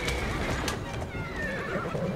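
A horse pulling a carriage whinnies in a drawn-out, shaky call amid hoofbeats and a rumbling rolling noise, loud and close, in Assassin's Creed Syndicate.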